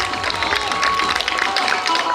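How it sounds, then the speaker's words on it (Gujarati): An audience applauds steadily at a school annual function prize announcement, a dense continuous wash of clapping with crowd murmur that holds at even loudness throughout. "તાળીઓ વાગવી જોઈએ."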